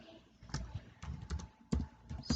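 Quiet, irregular keystrokes on a computer keyboard, several clusters of close-up taps with brief gaps and no talking.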